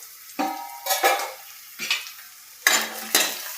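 Spices and mixture sautéing in a pan for mung dal parathas, with bursts of sizzling and several scraping stirs of a spoon against the pan, close and fairly loud, separated by brief quieter gaps.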